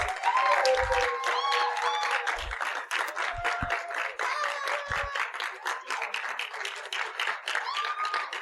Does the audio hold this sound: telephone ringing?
no